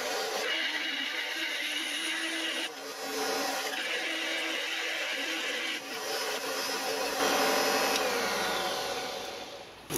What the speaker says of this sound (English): Alright, nice sharp drill. Let's do it.